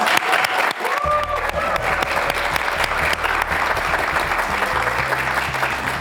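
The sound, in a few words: audience applause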